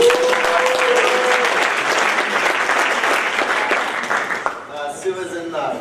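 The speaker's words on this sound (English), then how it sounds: "Round of applause for Sue." Sustained audience clapping at a parish youth ministry gathering, loud and even for several seconds before dropping off abruptly, with a voice speaking briefly during the applause and again as it ends.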